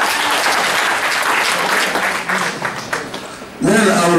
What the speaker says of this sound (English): Let's clap first for them.